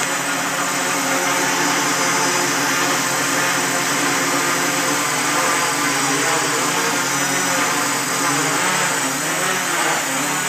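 A home-built quadcopter in flight produces a loud, steady high-pitched whine of motors and propellers, with a slight rising and falling hum, close and continuous with no talk.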